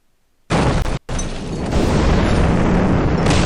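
A hardened aircraft shelter blowing up in the Command: Modern Operations game: a sudden loud explosive burst after brief silence, a momentary dropout, then a sustained roaring rumble that builds and persists.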